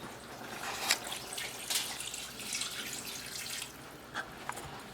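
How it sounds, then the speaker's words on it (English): Water is poured into a pot of stew chicken that already holds milk. It comes as faint, irregular splashes and trickles, with a few brighter bursts, and no one speaks. "I'm gonna pour the water."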